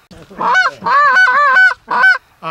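Rapid goose calls during a late-season goose hunt in Rochester, Minnesota, a quick run of loud, close honking clucks in short bursts with brief gaps between them.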